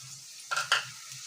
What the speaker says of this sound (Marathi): तेही छान परतून घेतोय आपण